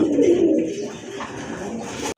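Pigeons cooing close by, a low throaty burbling that is strongest at the start and continues softly throughout, with no talking.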